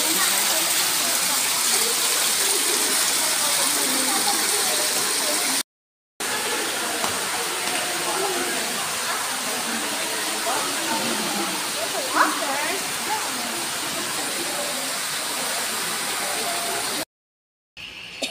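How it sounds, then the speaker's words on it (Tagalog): Water circulates steadily in an outdoor fountain, making a constant broadband rush that holds even throughout, with two brief dropouts and a faint click partway. "paikot-ikot lang yung tubig"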